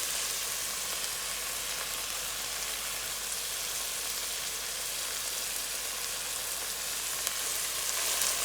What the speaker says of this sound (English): All right, our onions are nice and tender now, so I'm going to add in our garlic.